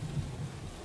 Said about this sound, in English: it's raining like cats and dogs out here. It's pouring.